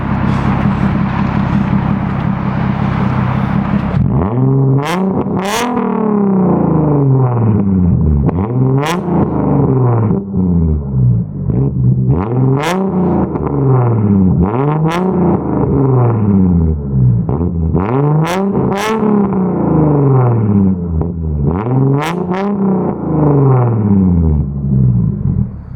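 A Nissan Z sports car engine revs hard again and again, each blip climbing steeply then dropping back, with loud sharp pops in between, close and steady for the whole stretch without talk.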